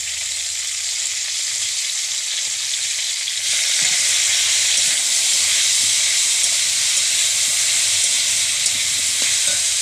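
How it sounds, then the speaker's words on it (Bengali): Potato, carrot and cauliflower pieces frying in a pan, giving a steady, loud sizzle and hiss that swells louder partway through while they are stirred, with faint scraping underneath. "আলুর সাথে গাজর কুচিগুলোও ভেজে নিচ্ছি ভালো করে নেড়ে এরপর ফুলকপিগুলোও ওর সাথে দিয়ে ভেজে নিচ্ছি"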